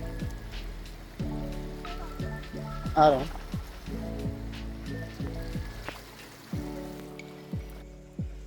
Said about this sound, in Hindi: क्या मस्त पानी आ रहा है बह के